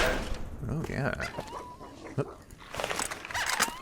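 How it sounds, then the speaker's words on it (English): Dogs bark and whimper in Fallout New Vegas, in short yips under steady talk, with other game sounds around them. "We got dogs."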